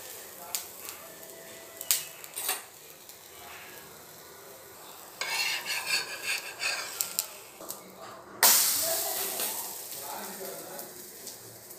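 Gram flour batter, mixed again, is poured dosa-style in small rounds onto a hot pan, giving bursts of crackling sizzle between scrapes and clicks, then a sudden louder hiss near the end.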